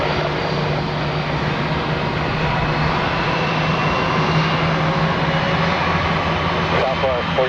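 Jet airliner on the runway at Tampa airport during takeoff, a steady loud engine roar and rumble throughout, with radio-style voices talking over it.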